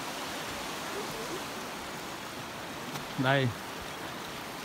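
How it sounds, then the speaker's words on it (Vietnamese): A stream flows beneath a footbridge in Finistère, Brittany, France, giving a steady broadband rush of running water throughout, with a brief spoken word and a short voiced sound partway through. "Suối chảy đó."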